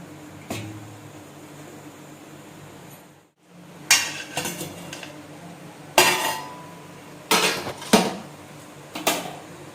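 Metal clatter from opening an idli steamer pot lid while checking a banana cake baked without an oven: a brief hush, then a series of sharp clanks and clinks of lid and vessel, close and fairly loud, spaced irregularly.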